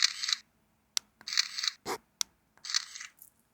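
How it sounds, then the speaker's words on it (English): Kodak Charmera camera making small mechanical shutter clicks and whirs, a few short crisp bursts separated by pauses, close and alone with no talking. "and also the shutter sound"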